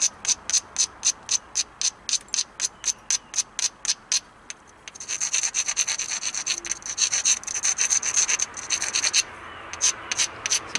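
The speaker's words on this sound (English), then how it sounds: "Trying to grind down this one side" Novaculite spear point being ground down along one side, first in regular rhythmic rasping strokes, then in faster continuous scraping, loud and close with no talk.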